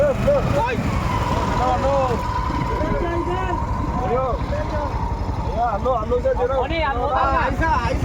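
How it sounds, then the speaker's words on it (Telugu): A tourist boat motoring on the Sarayu river in Ayodhya, a steady engine drone and wind rush running throughout under continuous talking from passengers. "చూడండి ఇంకో బోటు కూడా వెళ్తుంది భక్తులకు"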